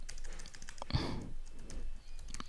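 Soft, rapid key clicks come from a computer keyboard while someone types commands during OpenStack project and user setup. The clicks are faint and close, with a brief sigh partway through.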